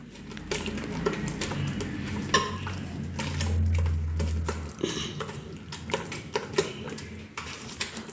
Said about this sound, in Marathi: मैदा घालून परत एकदा फेटून घ्यायचं बॅटर